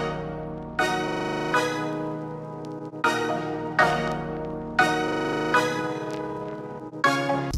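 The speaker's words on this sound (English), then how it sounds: "So that's my main melody that I have right there for the hook" A trap beat's main hook melody made in FL Studio plays as a bright, layered synth pattern, repeating in short phrases with sharp attacks and sustained tones that decay, with no talking.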